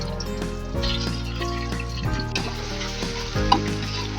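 Corned beef sizzles in a pan with garlic and onion, a steady close frying hiss broken by scraping stirs and a sharper clatter near the end, with no voices.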